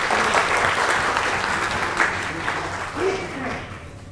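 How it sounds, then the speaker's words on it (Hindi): An audience at an awards event bursts into loud, dense applause that gradually thins, with a few voices calling out over the clapping. "आप भरपूर तालियों से इनका इस्तकबाल फरमाएं।"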